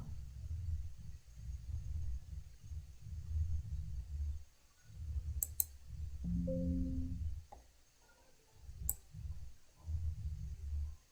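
A computer mouse clicks a few times in Excel, with sharp, isolated, quiet clicks spaced seconds apart over a low, soft room rumble, and no voices.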